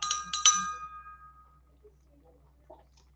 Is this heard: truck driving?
no